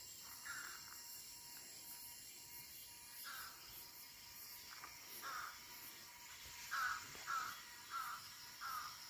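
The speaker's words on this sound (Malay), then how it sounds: "tuh ada burung juga sana saudara" A crow caws repeatedly in a garden, several harsh calls spaced a few seconds apart and coming closer together toward the end, moderately distant, over a soft bed of insect chirring.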